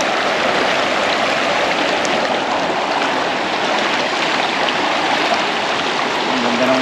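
A stream flows steadily with broad, constant rushing water, close and loud, with no talking over it.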